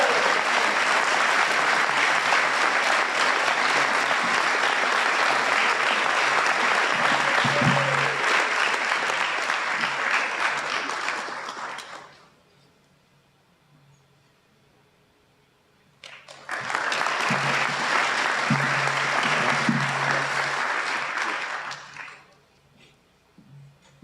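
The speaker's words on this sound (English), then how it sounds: "Please give a round of applause to our AJC Award winner, David Halsey." Audience applause at a senior honors day award ceremony, two bursts of sustained loud clapping from a large crowd separated by a few seconds of near silence.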